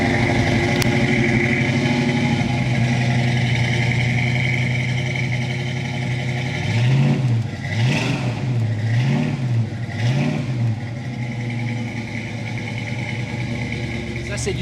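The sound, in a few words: Ford Mustang engine revving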